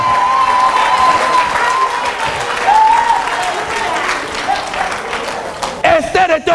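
A church congregation applauds and cheers in a sustained, roomy wash of clapping, with a voice talking and exclaiming over it throughout and a brief whistle-like cry near the start.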